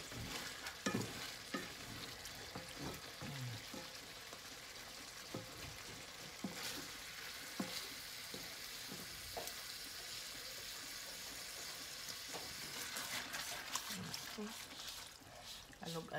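Chicken liver cooking in coconut milk sizzles steadily in a frying pan while it is stirred and shaken. Utensils scrape and clink now and then, and a constant crackling hiss runs underneath.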